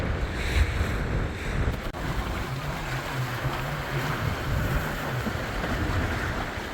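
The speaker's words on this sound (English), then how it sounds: "Got some steep waves here." Steep offshore waves rush and wash around a sailboat moving at speed, with strong wind buffeting the microphone in a continuous roar and a low droning hum beneath.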